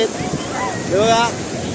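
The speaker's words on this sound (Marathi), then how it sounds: "फरती चालू आहे जोर जोर लाटा" Strong sea waves surge at Kelve beach in a steady, broad roar with some wind buffeting, while a voice sounds briefly over the surf.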